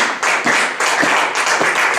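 A congregation claps in quick, steady unison to acclaim the Lord during a church teaching, with several bright, sharp bursts of applause and no talking over them.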